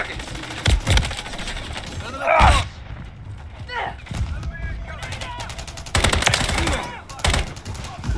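Call of Duty MWIII gunfire on the Rust map: repeated loud bursts of automatic fire and single shots, spread through the stretch with short gaps between them, while a player speaks over the action.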